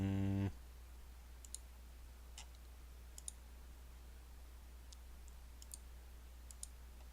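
Small computer mouse clicks tick sparsely over a faint background hiss after a brief tone at the start, single clicks scattered across several seconds as buttons are pressed during a stream.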